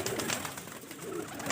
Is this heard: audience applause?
no